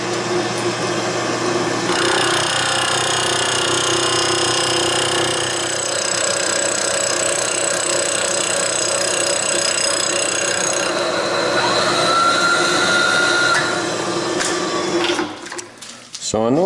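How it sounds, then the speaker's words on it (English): A milling machine cuts metal in steady passes, a continuous loud mechanical whine and grind holding for about fifteen seconds before winding down and stopping near the end. "my mill trim is off just a hair. It's cutting a little deeper on the left, so I'm going to leave my last pass and go from left to right"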